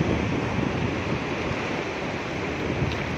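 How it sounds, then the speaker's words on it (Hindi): Wind gusts steadily past open water in a fruit-tree garden, a continuous broad rushing hiss that buffets the microphone without pause. "और हवा चल रही है फिर से"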